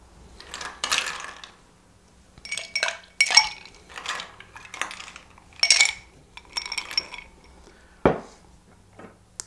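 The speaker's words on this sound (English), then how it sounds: "So we're going to add our ice." Ice cubes dropped into a cocktail mixing glass for a martini, a series of bright clinks and clattering knocks in short bursts, fairly close and clear, ending with a sharper thud.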